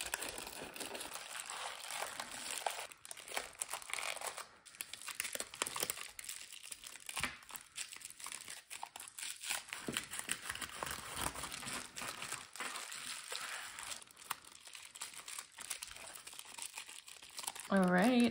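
Crystal pieces being wrapped and boxed for shipping, with a steady run of crinkling and rustling packing material, tearing bursts and light handling clatter, close and continuous throughout.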